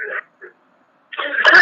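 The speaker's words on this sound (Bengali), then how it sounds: "আপনি প্রথমে একটা কাশি দেন" A person coughs on request over a phone line during a prank call: a brief throat-clearing rasp, a small second burst, then a louder, rougher cough after a short pause.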